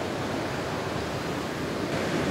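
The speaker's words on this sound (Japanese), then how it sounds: "激しい勢いで水が鍾乳洞奥から出てきています。" Floodwater gushing violently out of Ryusendo limestone cave, a national natural monument in Japan flooded by a typhoon, as a dense, roaring rush of water that stays constant and close, with no voices.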